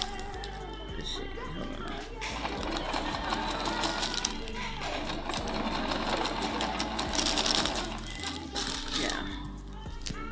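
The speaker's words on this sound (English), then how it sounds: "now all I have to do is, sew it in a square, basically" A sewing machine stitches fabric for a tablecloth, whirring and clattering in a fast continuous rhythm close by, with faint speech underneath.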